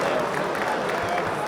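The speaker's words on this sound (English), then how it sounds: "can we have a huge round of applause for these two fighters?" Crowd applause at a fight event honoring two boxers, Burhan Nishat and Dylan Courtney: dense, steady clapping that fills the clip at even strength, with faint crowd noise mixed in.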